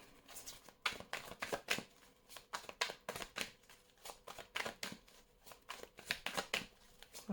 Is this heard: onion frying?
no